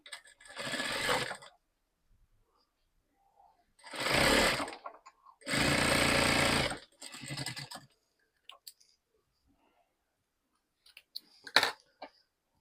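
Sewing machine stitching a folded fabric strip for a hook-and-loop or buttonhole placket, running in several separate close bursts of a second or two with quiet pauses between them.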